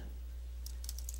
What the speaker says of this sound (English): I'm going to type JavaScript